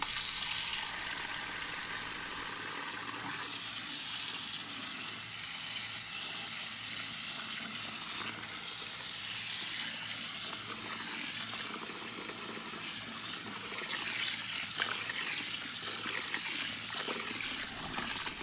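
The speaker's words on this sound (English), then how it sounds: "I'll take the bowl to the sink and start the tap." A sink tap runs steadily, water streaming into a bowl with a broad, even hiss that continues close and unbroken throughout, no voices.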